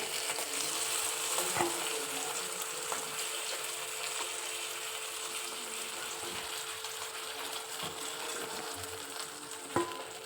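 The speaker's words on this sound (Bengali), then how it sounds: "কাতলা মাছগুলো নুন হলুদ মাখিয়ে ভালো করে ভেজে নিলাম" Katla fish pieces coated with salt and turmeric fry in hot oil, a steady close sizzle with crackles and a few sharp pops, continuing without any talk.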